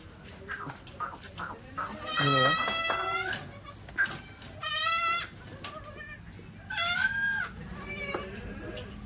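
Kathiawari goats and their young kids bleat repeatedly at close range, several loud wavering calls in sequence, with people talking in between and around them on a farm.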